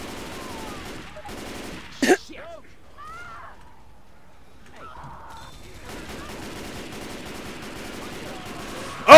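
Gunfire in Left 4 Dead 2 aimed at hunters: a short sharp burst of shots, then quiet stretches with faint game sounds, ending in another loud burst.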